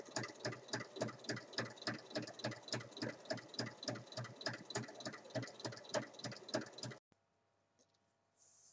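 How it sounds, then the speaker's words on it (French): Sewing machine topstitching all the way around a lined fabric pouch, a fast steady run of even mechanical stitch pulses that stops abruptly near the end, leaving quiet room sound. "je vais faire tout le tour avec une surpiqûre"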